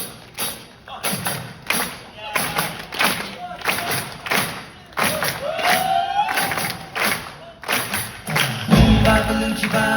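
An audience at a live show in a theatre claps along in time with the drummer, a steady rhythmic beat of many hands with crowd noise and a voice speaking over it, ending in a louder swell.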